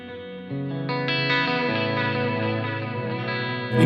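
An electric guitar runs through a KMA Audio Machines pedal with delay and reverb combined in series, sounding as sustained, layered chords with washy modulated echoes and a swell at the end.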